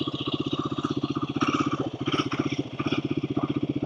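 A Royal Enfield Himalayan 452 motorcycle rides at low speed in its low first gear with no clutch use, its single-cylinder engine giving a close, steady, rhythmic thumping throughout.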